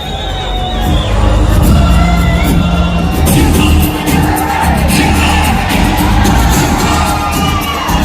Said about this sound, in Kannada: ಜೋರಾದ ಚಪ್ಪಾಳೆಯ ಮೂಲಕ ಅವರನ್ನು ಸ್ವಾಗತಿಸಬೇಕಾಗಿ ವಿನಂತಿಸಿಕೊಳ್ತೇನೆ